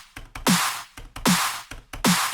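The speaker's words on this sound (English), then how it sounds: "Fat riddim snare. Sounds epic." Three heavy riddim snare hits, each a bright, noisy crack with a long washy tail, repeating in a steady loop with small ticks between.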